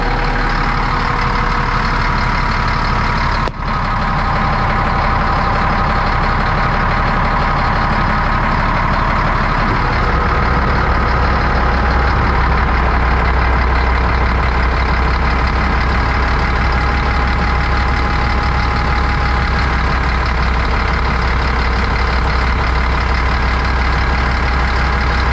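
A Caterpillar D6 bulldozer in poor running condition idles steadily at low RPM, a loud, continuous diesel rumble with a deep low-frequency throb that thickens partway through, no voices.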